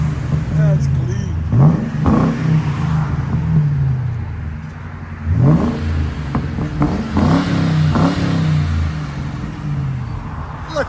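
Ford Crown Vic engine revving repeatedly through its exhaust, loud rising and falling bursts close by with idle rumble between revs, people talking over it.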